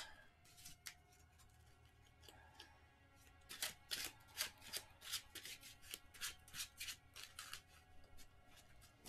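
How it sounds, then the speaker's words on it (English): An Arkham Horror encounter card deck being shuffled by hand, a dense run of crisp riffling flicks and rubbing card sounds up close, steady and quiet with no voices. "I'll shuffle it on camera"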